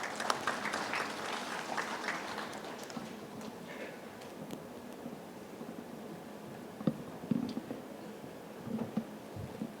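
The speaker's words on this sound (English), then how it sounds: "let us extend a round of applause and welcome Dr." Applause from a conference audience at the inauguration of an energy-themed conference and exhibition, fairly quiet and diffuse, rustling steadily over about ten seconds with a few sharper claps near the end.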